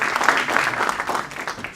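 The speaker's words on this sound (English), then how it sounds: "a round of applause for everybody" A seated audience at a panel Q&A event gives a brief round of clapping, a dense burst of hand claps that swells and then gradually thins out.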